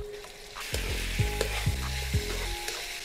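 Pork sizzles and crackles in hot oil with garlic, onions and ginger, several stirring scrapes breaking through a steady, close frying hiss.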